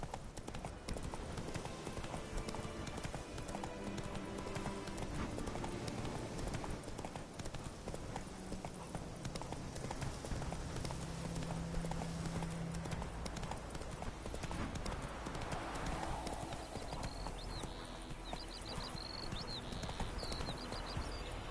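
A horse gallops in The Witcher 3: Wild Hunt, a steady rhythmic drumming of hooves over a dense ambient game soundscape and music, continuous and fairly close for over twenty seconds.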